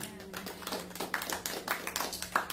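A church congregation claps as an offering, scattered hands clapping at a moderate pace that grows slightly denser, with a low steady hum underneath.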